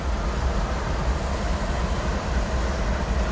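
Train 770, southbound to San Diego, passes at Commerce with a loud, steady, close rumble and roar that holds at the same level from start to end, with no voices.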